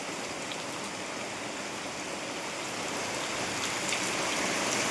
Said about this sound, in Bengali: প্রচণ্ড বর্ষা এসছে